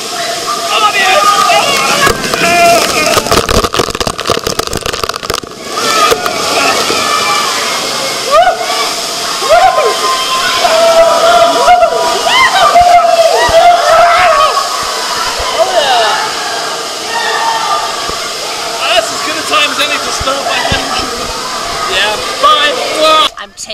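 Water rushing and sloshing around riders on a spinning raft ride at Blizzard Beach water park, a steady loud wash with excited voices and screams over it throughout.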